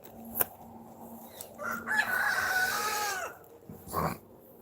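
A chicken nearby crows once in a drawn-out call between short clucks and scratchy noises, fairly faint and heard alone.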